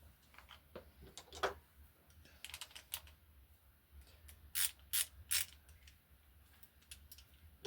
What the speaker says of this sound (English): You just need a 13mm socket to undo this bolt here, and when you do, the tensioner will pull back